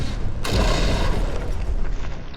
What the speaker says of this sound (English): Oh, that's a fancy cram cannon.